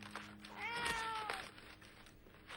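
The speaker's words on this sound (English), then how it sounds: "But you mean you brought a cat with you?" A cat, Mushi, lets out a single drawn-out meow, close and clear, that rises and then falls over about a second against a quiet background.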